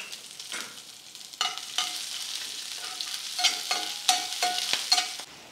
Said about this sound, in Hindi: यहाँ पर जो लहसुन है वो थोड़ा फ्राई हो चुका है